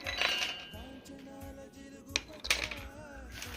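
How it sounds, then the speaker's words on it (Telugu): Almonds drop into a blender jar for a dry fruit smoothie, landing in a few bright clinking taps on hard glass or plastic while someone speaks. "అండ్ బాదం వేస్తున్నాను."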